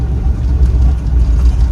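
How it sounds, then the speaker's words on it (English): A 1971 Mercury Montego wagon with a 351 Cleveland V8, 4-speed and 9-inch rear axle drives along, giving a loud, steady low rumble and drivetrain hum inside the cabin, with no talking. "the nice little hum of the 9-inch rear"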